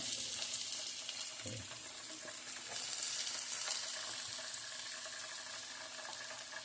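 Onions and curry leaves fry in a pan for a chicken dish, a soft, even hiss heard at a distance with an occasional faint stir or knock and some watery background noise.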